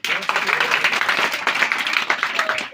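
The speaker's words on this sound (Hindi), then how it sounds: "बहुत बढ़िया, तालियां हो जाए इसके।" An audience at a commemorative stage event applauds, a thick, continuous wash of clapping hands heard up close for a few seconds with voices underneath.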